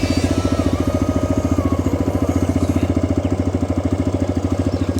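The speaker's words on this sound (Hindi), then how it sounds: "मैंने न्यूट्रल पे डाल दिया बाइक को और आइडियली स्टार्ट कर दी" A TVS Raider 125 motorcycle idles in neutral, its engine putting out a steady, rapid low thumping pulse up close, running continuously with no voices over it.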